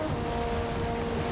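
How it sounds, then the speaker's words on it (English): Rushing water pours like a waterfall at the world's edge in the Valheim video game, a dense, steady roar with no pauses and no voices. "these waters look kind of weird. It's like flowing, dude. It's like a waterfall."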